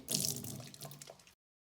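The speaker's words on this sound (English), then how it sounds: "we always wash our hands first in the kitchen." Water runs from a kitchen tap as hands are washed beneath it, a steady close splashing for just over a second before it cuts off into silence.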